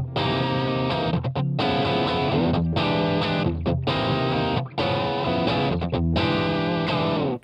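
Electric guitar played through the distortion channel of an Overloud TH3 amp for an 80s hard rock tone, chugging chords in rhythmic bursts with brief gaps, loud and saturated, no voices.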